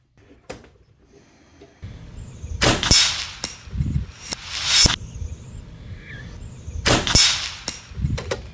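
A PCP air rifle fitted with a Skout Whisper moderator fires a few sharp, suppressed shots spaced a couple of seconds apart outdoors, each a close, loud crack with a brief tail.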